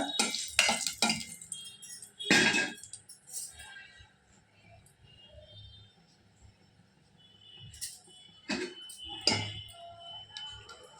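Tamarind being mashed in oil in a pan, heard as sporadic scraping and clinking of a metal spoon against the pan, close but fairly quiet, with gaps of near silence between bursts.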